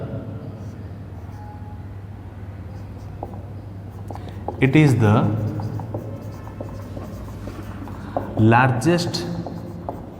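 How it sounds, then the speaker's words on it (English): Chalk or marker writing notes on a board during a classroom lesson, two short scratchy bursts of strokes under a teacher's steady lecturing voice. "our first point we will write"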